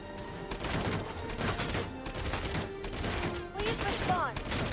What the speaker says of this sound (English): The Grenadier's taking fire from that MG